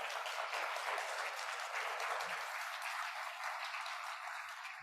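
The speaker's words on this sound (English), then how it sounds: "round of applause for these folks for being our first up" A symposium audience applauds steadily in a dense, continuous wash of clapping that holds at an even level throughout, with no voices on top.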